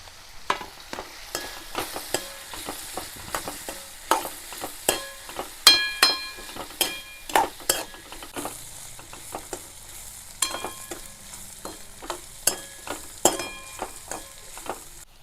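Kantola (spiny gourd) frying in a pan with turmeric while being stirred, with a steady sizzle under repeated scraping and clinking strokes of the spoon against the pan, close and continuous.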